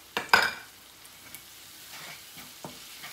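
Peppers and onions with Cajun seasoning sizzle in a pan. A couple of sharp stirring scrapes come near the start, followed by a quieter, steady frying hiss with occasional small pops.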